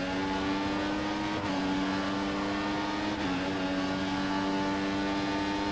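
Steady high-pitched whine of a Formula 1 car engine in the F1 2014 racing game at Bahrain, held near and loud with brief dips in pitch as gears shift, running continuously throughout.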